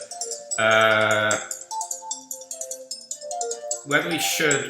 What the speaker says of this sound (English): sorry about that, my phone's making noise,